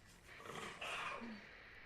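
A low monster growl from the Resident Evil 2 video game rumbles briefly at moderate distance, swelling once before fading under a steady ambient background.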